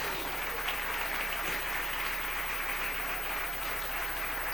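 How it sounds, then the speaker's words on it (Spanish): A church congregation claps for the King during a morning worship service, a sustained, dense wash of applause from many hands filling the room at a steady level. "Dele ese aplauso al Rey en esta mañana."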